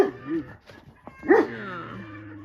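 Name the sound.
dog barking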